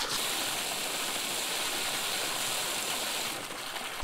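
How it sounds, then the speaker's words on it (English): Fresh mountain water pours steadily from a public fountain in Altaussee, Austria, a close, constant splashing rush with no voices. "Everywhere in Austria you find those fresh water fountains."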